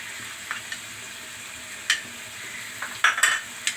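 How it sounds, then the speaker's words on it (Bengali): Masala chickpeas with coriander and cumin powder are stirred in a pan over a soft steady sizzle, with a few sharp spoon scrapes and clinks of metal against the pan, no voices. "জিরে গুঁড়ো, দিয়ে ভালো করে নাড়তে হবে।"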